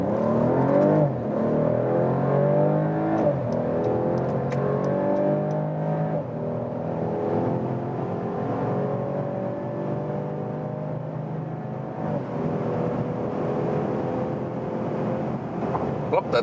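A Mercedes-Benz CLS 450 engine pulls hard on a motorway, climbing steadily in pitch as it accelerates from 30 km/h toward 200 km/h, with a constant road and wind roar underneath.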